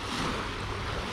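Sea waves washing onto a beach on a summer morning on the Black Sea coast at Anapa, a steady broad roar of surf with wind noise, loud and continuous throughout, with no voices.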